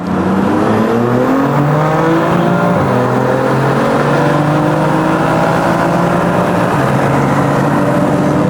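Street race cars on an Istanbul night street, engines roaring loud and close through long rising revs with gear shifts, a continuous overlapping drone of several cars accelerating hard.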